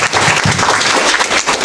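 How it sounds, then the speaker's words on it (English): A hackathon audience gives a round of applause after a pitch, dense steady clapping filling the whole short stretch at close, loud level with no talk over it. "All right, round of applause."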